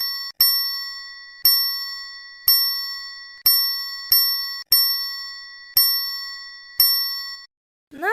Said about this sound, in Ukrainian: Послухайте звук трикутника.